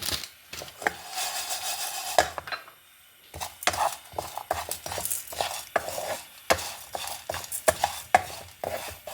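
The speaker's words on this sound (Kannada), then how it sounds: "ಕಾಯಿ ಹುರಿಯಿತು" Grated coconut roasting in a pan with cumin gives off a series of clinks and scrapes as a spoon stirs it, irregular taps against the metal close by with quiet gaps and no talking.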